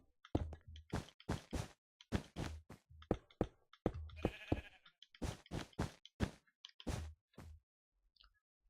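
Sheep in the Minecraft video game bleat over and over in quick, rhythmic bursts, a dense run of close, loud game bleats with brief pauses between groups.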